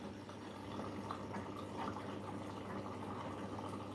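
A washing machine runs a smaller cotton load on a two-rinse cycle, giving a steady wash of sloshing and trickling water, fairly faint and continuous, with no voices.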